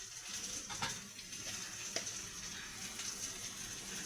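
Spices and tomato sauté in hot oil in a pan for a Bengali fish curry with cauliflower stems, potato and bori, a soft steady sizzle with faint scraping stirs close by.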